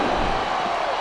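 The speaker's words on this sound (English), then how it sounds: "Listen to the crowd, JR." A dense crowd roars loud and continuous in the wrestling arena of the Smackdown vs RAW 2007 video game, a brief unbroken burst of cheering with no break.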